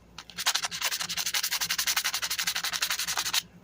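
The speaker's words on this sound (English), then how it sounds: "The corrosion has caused problems for it more than we can fix with sandpaper here." Sandpaper rubbing hard on a corroded MTD lawn mower part, a fast, loud run of about two dozen rhythmic back-and-forth strokes, close up and alone.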